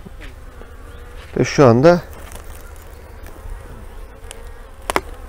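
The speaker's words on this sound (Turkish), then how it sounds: "arılar biraz rahatsız oldu kokudan" Honeybees disturbed by the smell of formic acid applied against varroa mites in a hive, buzzing in a brief loud swell close by, followed by a short Turkish-speaking voice and quieter hive hum.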